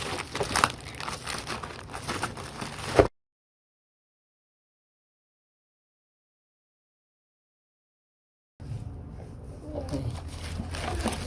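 Crinkling and tearing of packaging as an online-ordered parcel is unwrapped, close rustling bursts before and after a long silent gap.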